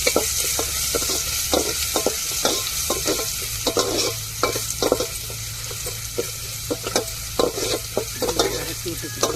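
Garlic frying and being stirred in a hot pan, with a steady sizzle under repeated scraping and stirring strokes, close and fairly loud throughout.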